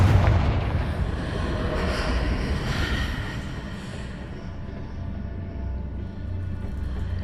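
A fiery Confringo spell explosion in the Hogwarts Legacy video game starts with a loud booming blast, then a sustained rumbling roar and crackle that slowly fades but keeps rolling, close and dense with no speech.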